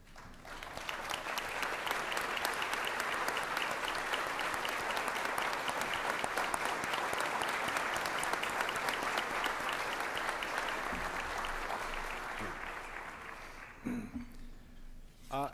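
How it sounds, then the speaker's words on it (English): A luncheon audience at the 2017 FLGHC awards gives a long, sustained round of applause for award recipients, dense even clapping that holds for over ten seconds before tapering off near the end. "let us have one last round of applause for all of our awards recipients today"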